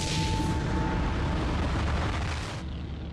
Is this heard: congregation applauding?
no